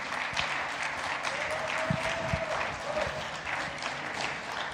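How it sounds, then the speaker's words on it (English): A conference crowd claps steadily in sustained applause, dense and lively, with a few faint voices mixed in. "Round of applause for him."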